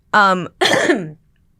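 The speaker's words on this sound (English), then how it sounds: "It's been 3 weeks with this cough." Two harsh coughs close together, the second longer and raspier, loud and near with no talking.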